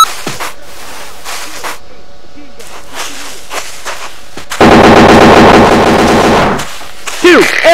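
Gunfire rings out in the military simulation game VBS2. Scattered single shots come first, then a loud, sustained burst of rapid automatic fire runs for about two seconds, followed by a few more shots.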